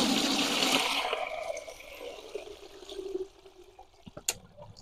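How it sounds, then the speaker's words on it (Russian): Green fertilizer liquid drains from a spare colander in a vegetable garden, a rushing pour at first that thins to a soft trickle and scattered drips. "Водичка сольется."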